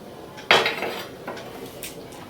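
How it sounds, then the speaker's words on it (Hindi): Oil swirled around a metal cooking pan: one sharp clank of the pan, followed by fainter scraping and light rattling knocks, with no talking. "पहले तेल को ऐसे घुमा दूंगी।"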